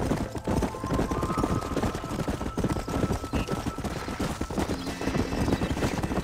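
Horse galloping in the Red Dead Redemption video game, a steady rapid clip-clop of hooves with occasional whinnies, loud and continuous against a busy game soundscape with music.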